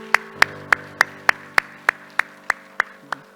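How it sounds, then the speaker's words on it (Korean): About eleven sharp claps from a church congregation land at a steady, even pace over a low sustained tone, with no talking. "우리 하나님께 영광을 박수합시다"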